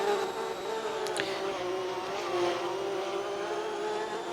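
An SVE Porsche sports car races past on a circuit, its engine a sustained, high-pitched drone with shifting harmonics, heard at moderate distance amid steady track ambience.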